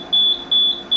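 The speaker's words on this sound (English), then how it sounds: "you will hear the alarm kick in if the energy level to the bulb exceeds 205" Energy overload alarm on a Super Spot Cure Max UV curing lamp, three loud, piercing high beeps repeating in quick even rhythm, close up, with no talking.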